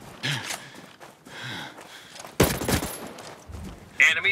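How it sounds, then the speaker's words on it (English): Bursts of automatic gunfire in a Ghost Recon Breakpoint PvP firefight: scattered shots early, then a loud sharp volley midway and another burst near the end, with brief voice sounds in between. "Hostiles are shooting"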